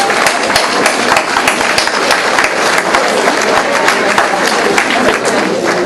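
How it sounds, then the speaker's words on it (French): A volunteer awards crowd in Princeville claps loudly and steadily, a dense wash of hands filling the hall without pause. "Bonne belle applaudissement à tout ce monde-là."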